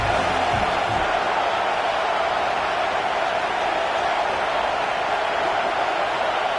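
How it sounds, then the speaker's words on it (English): Stadium crowd roaring in an NCAA college football video game on a defensive third down, a dense, loud, constant wash of cheering noise with no clear breaks. "Decibels rising as the crowd gets behind this defense on third down."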